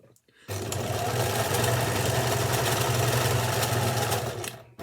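A sewing machine back stitches a fabric scrunchie in one loud, steady, close run of about four seconds that starts and stops abruptly.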